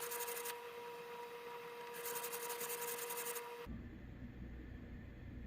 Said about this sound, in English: hit it on the 220 again with the sanding beam